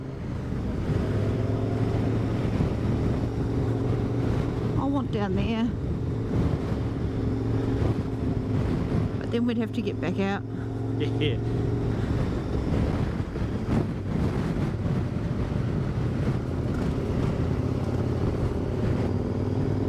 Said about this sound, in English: Go before that next wind gust comes through.